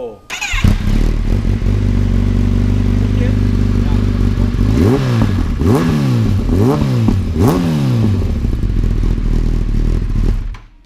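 A Kawasaki ZX10R sport motorcycle engine starts and idles, then is revved several times in quick rising-and-falling bursts before cutting off. It sounds close and loud, with voices faintly underneath.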